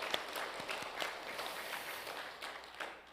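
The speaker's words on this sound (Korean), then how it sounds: "우리 하나님께 영광의 박수 올려드리겠습니다." A church congregation claps in praise during an Easter service, an even wash of applause from many hands with some closer, distinct claps, moderately loud throughout.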